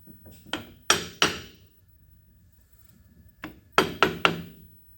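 A hand tool taps on metal during a deep-hole boring bar setup, with three sharp knocks, a pause, then four more quick raps, close and fairly loud with no speech.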